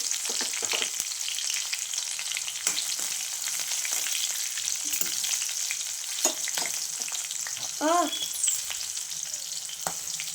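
Green chillies and dried red chillies fry in oil in a pan, a continuous close sizzle with occasional stirring clatters and a brief squeaky scrape near the end.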